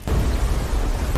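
A powerful animated explosion rocks a pagoda tower, a dense, sustained low rumbling roar that bursts in abruptly and stays loud throughout.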